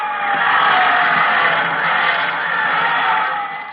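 A big crowd roars and cheers at ringside in a packed boxing arena, a steady, loud wash of many voices that swells and then begins to fade at the end.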